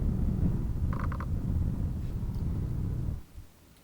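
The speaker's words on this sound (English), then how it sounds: "So here's the sound of me blowing into the microphone, reversed and stretched." Breath blown into a microphone, played reversed and time-stretched, comes across as a dense low rumbling whoosh that swells steadily and then drops away abruptly near the end.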